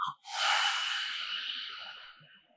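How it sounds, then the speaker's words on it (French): A single long, deep exhale during a Kapalabhati pranayama breathing exercise, near and airy, swelling after a brief intake and slowly trailing off over a couple of seconds, with no talk. "Grand inspire. Grand expire."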